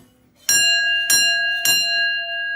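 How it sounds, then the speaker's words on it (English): A small bell, an old item on display at a radio auction preview, is struck three times in even succession, each strike bright and ringing with a long sustained tone, close and alone. "Nice little bell there."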